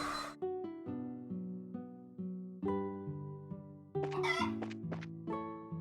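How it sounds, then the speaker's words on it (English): Game chickens in Trails in the Sky FC cluck in short repeated bursts over steady looping background music, with a louder flurry of squawks near the end as they are chased. "It is mandatory for everybody playing this game that you must chase the chickens."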